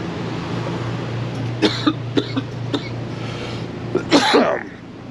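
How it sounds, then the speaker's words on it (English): Several sharp coughs inside a Class C motorhome, a quick cluster of three then a louder burst a moment later, close by over a steady low hum. "it's making me cough"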